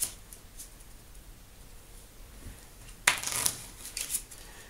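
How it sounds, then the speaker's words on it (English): A deck of Lord of the Rings deck-building game cards gets shuffled: quiet rustling at first, then a brisk, close riffling burst in the last second and a half. "So I will shuffle."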